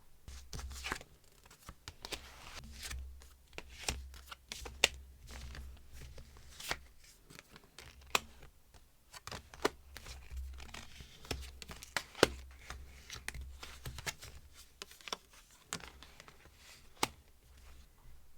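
Tarot cards are shuffled and handled close up, giving a quiet run of soft riffles, flicks and snapping card taps in an irregular rhythm, with no talking.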